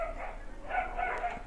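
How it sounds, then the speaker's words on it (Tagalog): Dogs barking and yipping in a short burst, with a few mid-distance barks over a steady background hum. "Uy, ano ba mga aso?"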